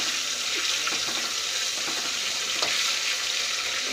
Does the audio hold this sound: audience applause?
no